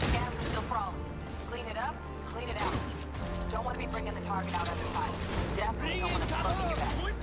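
Rapid bursts of gunfire and machine-gun fire crackle through a Cyberpunk 2077 firefight, dense and loud under an excited voice talking over the shooting.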